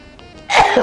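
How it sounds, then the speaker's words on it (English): A single sudden, forceful sneeze bursts out close by after a brief quiet moment. "That pepper always makes me sneeze."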